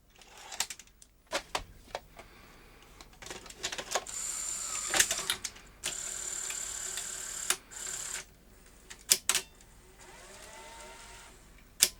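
A SuperBeta SL-HF600 VCR tape mechanism runs with a blank tape loaded, giving close mechanical clicks, clunks and ticks, with a sustained whirring motor stretch in the middle and further irregular clicks after.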